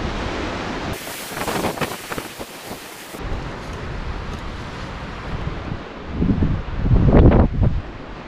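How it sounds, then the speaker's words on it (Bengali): Strong wind gusts over the Sandakphu summit, roaring and buffeting the microphone, with surges that swell loudly toward the end. "প্রচণ্ড হাওয়া, মানে ফেলে দেবে মনে হয়।"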